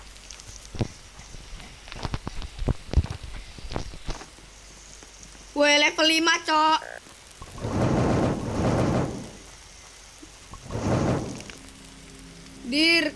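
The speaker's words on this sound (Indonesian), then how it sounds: "Hujan guntur." Thunder rumbles and rain in a video game storm, heavy bursts of rolling noise coming in waves with a player talking and game sounds between them.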